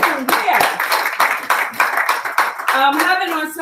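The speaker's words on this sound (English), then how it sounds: "Give yourselves a round of applause for being here." An audience at a wellness speakers showcase in Worthing applauds steadily for several seconds, with scattered clapping, cheers and voices mixed into the noise throughout.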